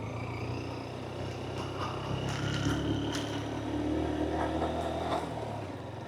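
A vehicle engine strains in first gear up a steep cement hill road at Palukachi mala in Kerala, a steady droning tone that swells and eases, close and continuous without talk.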